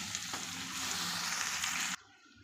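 Chopped tomatoes sizzle in hot oil in a pan for a cucumber tomato masala curry, a loud, close frying hiss that cuts off abruptly near the end.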